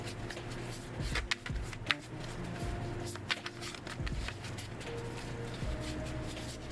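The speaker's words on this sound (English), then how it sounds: "so I just shuffle like this" Soft riffling and flicking of tarot cards being shuffled, a string of quick papery bursts with a low steady hum underneath.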